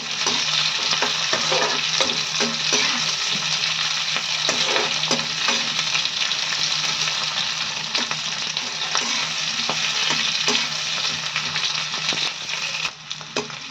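Onion fries in a pan at home, a dense continuous sizzle close by with recurring stirring clicks and scrapes, heard alone without talk.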